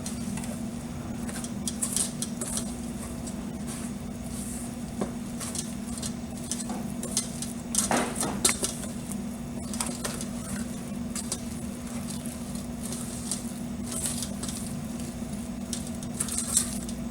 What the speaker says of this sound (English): taking your rubber scraper here and kind of just mixing some